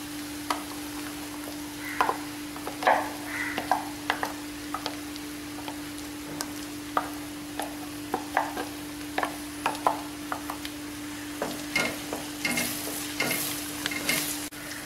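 Ground gongura paste frying in oil for a pachadi, giving a faint steady sizzle with scattered soft stirring scrapes and clicks from a spoon in the pan, with no talking.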